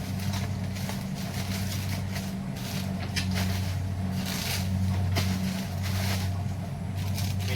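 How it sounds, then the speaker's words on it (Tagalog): Steady low engine drone of a Corimao rice harvester working in a nearby field, a continuous loud hum with strong low tones that holds evenly throughout with no pauses. "naririnig yung ugong ng harvester ng Corimao kung tawagin"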